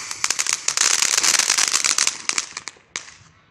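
Fourth of July fireworks crackle and pop in dense rapid bursts close by, a loud chattering string of small bangs that thins out into a few separate cracks before it fades.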